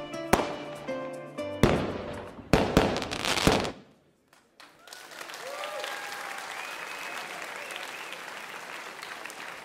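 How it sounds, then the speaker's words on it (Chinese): Chinese New Year firecrackers go off in a rapid volley of loud, sharp bangs over music, then fall silent briefly before sustained applause and crowd noise at a school assembly. "中国人过年要放鞭炮"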